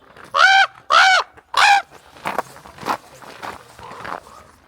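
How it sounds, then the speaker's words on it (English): A large crow in south Iceland gives three loud, harsh caws in quick succession, followed by softer rustling and footstep-like shuffles nearby. "What a massive crow."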